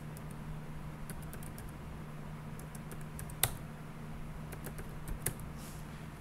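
Quiet, close keystrokes on a computer keyboard while entering a terminal command, scattered taps with one or two louder key hits, over a steady low electrical hum, no voices.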